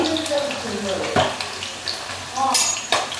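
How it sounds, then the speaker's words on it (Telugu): Thinly sliced garlic cloves, seven or eight, tipped into a hot pan of oil and stirred, sizzling with scraping clatters of a spoon against the pan, a few sharp metallic knocks and bursts of frying close by. "పొట్టు వలుసుకున్న తెల్లగడ్డ పాయలు సన్నగా కట్ చేసుకున్నవి ఒక ఏడెనిమిది తెల్లగడ్డ పాయలు అయితే వేసుకుందాం"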